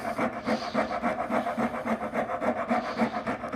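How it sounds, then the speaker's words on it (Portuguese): A wood rasp is pushed back and forth across a wooden carving mallet, making a close, rhythmic rasping scrape of about four strokes per second that repeats steadily throughout. "Agora eu vou passar a grosa aqui, me atendo à linha daqui e à linha daqui. zigue-zagueando ela."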